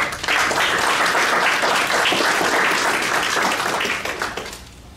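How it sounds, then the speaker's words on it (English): Hall audience applauds an attorney after her talk at a health lecture, a loud, steady wash of many hands clapping that holds for several seconds and then tapers away at the end. "So let's give Attorney Chissell another round of applause."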